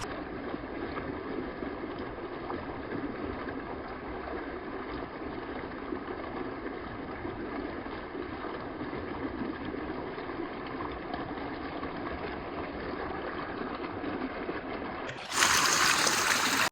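Water pours from a DIY turtle pond filter overflow in a steady, continuous rush like a small waterfall, close and even, ending with a sudden bright splash near the end.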